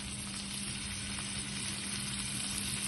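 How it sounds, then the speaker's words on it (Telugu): Marinated tandoori tofu pan-frying in ghee gives off a loud, even, continuous sizzle, a close, unbroken hiss with no stirring or voices. "మ్యారినేట్ చేసినటువంటి టోఫును మనము ఈ పాన్ ఫ్రై చేసుకోవాలి."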